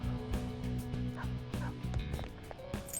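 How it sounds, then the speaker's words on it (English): A dog barks several times in the video game Persona 5 Royal, sharp yips over steady game music, fairly close and moderately loud. "watch out for the doggy."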